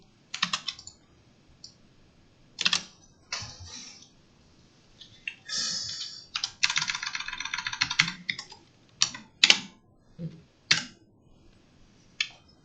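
Code being typed on a computer keyboard in bursts of clattering keystrokes with short pauses between runs, close and fairly quiet, with no talking.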